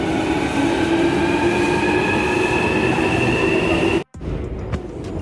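A London Underground tube train runs with a loud, constant rumble and a high steady whine. It cuts off abruptly near the end and is followed by a quieter rattling stretch.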